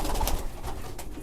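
Pigeons coo in a loft, with a few soft, throaty coos standing out close by over a busy background.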